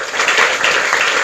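A church congregation applauding during a morning worship service, a brief, loud, dense burst of clapping from many hands.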